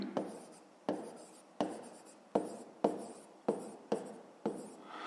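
Handwriting an equation for a fifth-grade math exercise: about eight quick, scratchy strokes in a steady rhythm, each starting with a sharp attack and fading, close and fairly quiet with no voices.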